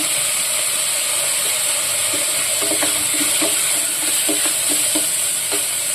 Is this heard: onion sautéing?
yes